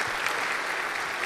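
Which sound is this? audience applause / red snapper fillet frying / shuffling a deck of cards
audience applause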